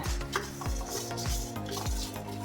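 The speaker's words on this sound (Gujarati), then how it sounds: "તો આવી રીતે એક મિનિટ આને શેકી લેવાનું છે" Whole spices and sesame seeds dry-roast in a hot pan with a dry, rhythmic scraping and rattling as they are stirred, repeating roughly every half second, close and moderately loud.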